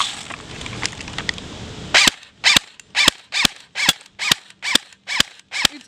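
A BB gun fires at an apple in a rapid series of about nine sharp, loud cracks at a steady rhythm, with a brief stretch of softer clatter and handling noise beforehand.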